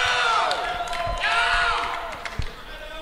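Convention audience cheering, clapping and screaming, with shrill whoops rising over a loud crowd roar that fades slightly toward the end.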